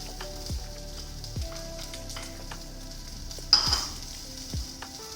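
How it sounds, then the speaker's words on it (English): Chopped onion frying in melted butter and oil gives a faint, steady sizzle, with a few soft knocks and one brief clink from the pan. "Once the butter starts melting, we'll add chopped onion,"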